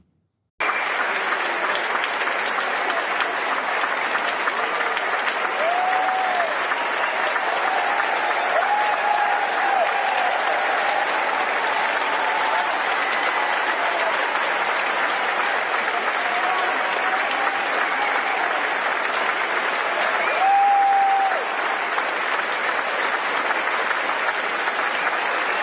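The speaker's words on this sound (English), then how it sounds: "they wanted to give them a round of applause" A crowd applauds the Royal Marines Band in a long, steady wave of clapping that holds for about twenty-five seconds, with a few faint whistles rising above it.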